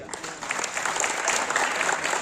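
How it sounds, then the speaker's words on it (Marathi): Loud, dense applause from an audience at the Bhajan Swaranand Premier League 2025 cricket tournament event, many hands clapping steadily and close for the whole stretch with no pause. "ज्यांना ज्यांना वाटतं की आपला खेळ चांगला व्हावा त्याने जोरात टाळ्या वाजवा"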